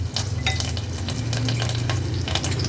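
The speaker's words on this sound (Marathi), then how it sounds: "आता फोडणीला कढीपत्त्याची पानं घालते, थोडासा हिंग घालूया।" Curry leaves and a pinch of asafoetida hit hot oil for a tempering, giving a loud, steady sizzle with crisp spattering pops, close up and uninterrupted.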